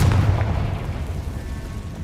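A fire-blast spell in Hogwarts Legacy bursts in a heavy, booming explosion, close and loud, with a rumbling decay.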